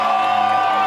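A crowd at the I Love Mountains Day rally at the Capitol cheers and whoops in a steady, loud, sustained roar.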